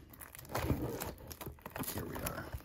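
Plastic wrapping on a 2020-21 Panini NBA Hoops blaster card box being cut open with scissors and torn, with crinkling and ripping bursts close up, and a person talking over it.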